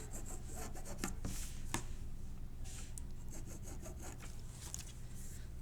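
Marking tool drawn along a ruler's half-inch lines on a sewing square, giving a steady rubbing scratch with repeated short strokes, close and fairly quiet, no talking.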